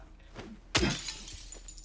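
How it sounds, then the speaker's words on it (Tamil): Glass breaks in the horror video game Silent Hill 2: one sharp, loud shatter cuts in partway through and leaves a crackling tail over a steady game ambience. "கண்ணாடி உடைக்கிற சவுண்ட் கேக்குதா"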